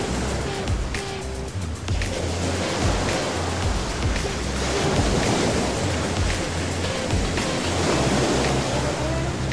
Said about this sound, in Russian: Адриатическое море, теплое море.